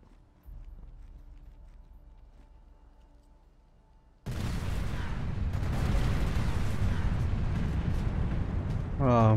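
A loud burst of blasts and rumbling action noise from the video game Splinter Cell Conviction, a sudden heavy wall of sound cutting in after a quieter ambient stretch and staying dense to the end.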